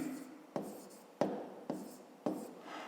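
Pen strokes on an exercise book page during a fifth-grade maths lesson: several short scratchy writing bursts in an irregular rhythm, close and quiet, with no talk.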